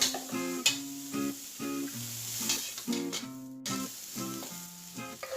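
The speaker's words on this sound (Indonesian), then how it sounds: "Lalu ditumis lagi sampai setengah matang." Carrots and wood ear mushrooms sizzle steadily in a hot wok, with a spatula scraping and clanking through the stir-fry at close range. Background music plays along.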